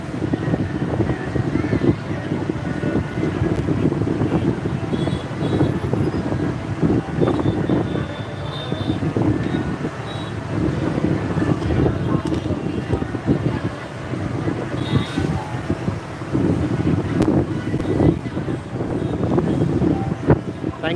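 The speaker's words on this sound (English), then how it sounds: "It's quite windy up here at the moment." Strong wind buffets the microphone on an 8th floor balcony above Saigon, a steady loud rumble running throughout.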